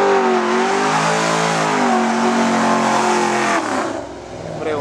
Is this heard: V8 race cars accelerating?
yes